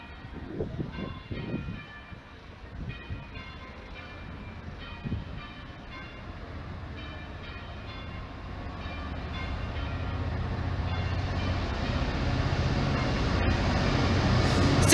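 A GB Railfreight freight train passes through Lincoln station, its rumble swelling steadily from faint to loud and close over the clip, with some ringing tonal sounds early on.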